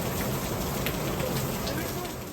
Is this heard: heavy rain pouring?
yes